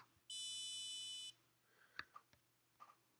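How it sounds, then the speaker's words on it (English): A buzzer driven by a Raspberry Pi Pico emits one steady high-pitched tone lasting about a second, followed by faint clicks and handling noises. "I'm sure you should be able to hear that, but it just buzzed"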